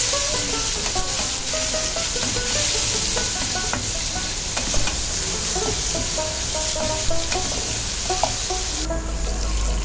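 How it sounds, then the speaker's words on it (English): Masalas sautéing with roughly chopped tomatoes in a pan for Bengali chholar daal, a steady close sizzle with scraping stir strokes and clinks throughout, no voices. "In goes roughly chopped tomatoes. Saute the masalas."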